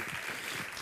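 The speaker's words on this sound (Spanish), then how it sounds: "Un aplauso grandísimo para Carla Antonelli." Applause for Carla Antonelli at an equality pride event in Gáldar, Canary Islands: a steady wash of hand clapping from an audience, dense and continuous through the brief moment.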